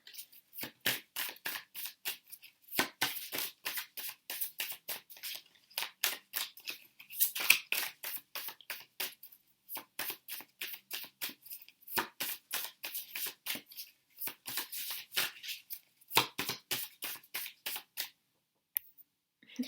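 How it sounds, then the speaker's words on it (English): Repeated crisp riffling and snapping of tarot cards being shuffled, coming in bursts with short pauses between them, close and fairly quiet. "I'm going to shuffle all the cards out"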